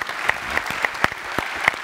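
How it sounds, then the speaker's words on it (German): Short burst of audience applause at a talk show held at the Bundeskunsthalle Bonn, many hands clapping steadily and close, with no talk over it. "Das ist einen kleinen Applaus wert, würde ich sagen."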